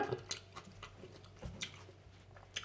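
Close, crunchy chewing and biting on fried pork rinds eaten with som tam broth, a handful of irregular crisp bites and soft wet chews in a quiet room with a faint hum.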